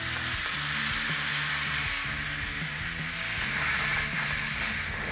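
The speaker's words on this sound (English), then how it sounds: "all we have to do now is just release the pressure of our pressure cooker" An Instant Pot pressure cooker holding BBQ ribs vents steam through its valve in a steady, loud, continuous hiss, with background music underneath.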